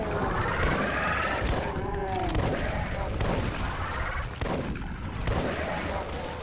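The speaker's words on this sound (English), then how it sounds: "I'm just, like, blindly shooting at this point" Rapid gunfire from blind shooting in the video game Doom, on the map Cutting Edge, loud bursts of shots and booms filling the whole stretch, with a brief grunt and little or no talk.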